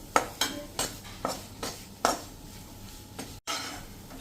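A metal utensil scrapes and knocks rhythmically against a pan of sukhdi mixture with ghee cooking over a medium gas flame, sharp clinks about every half second, close and clear.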